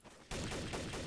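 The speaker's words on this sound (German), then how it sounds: "Ja, Schüsse." Gunfire in the video game Trouble in Terrorist Town breaks out as a sudden loud burst of rapid shots after a brief quiet moment.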